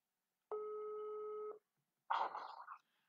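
Telephone ringback tone on an outgoing call: one steady electronic tone lasting about a second, then a short burst of voice or noise after a pause.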